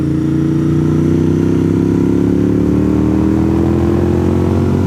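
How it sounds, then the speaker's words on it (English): A 1995 Honda CBR 900RR sport motorcycle being ridden: a loud, close engine drone with steady harmonics that climb gradually as it accelerates, mixed with wind rush and no talk. "I was riding a 1995 Honda CBR 900RR."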